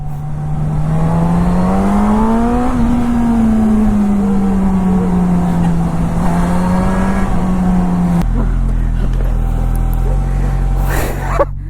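A Suzuki GSX-S1000 superbike held in first gear revs loudly and close up, its engine pitch climbing and sinking in a smooth sweep before dropping to a rough, throbbing idle at the end.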